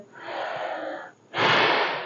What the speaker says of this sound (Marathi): श्वास घेतोय